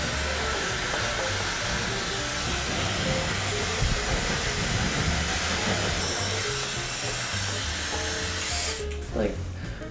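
A hair dryer set to low heat blows steadily and close up, a continuous airy whir with some rumble, for about nine seconds before it cuts off abruptly near the end.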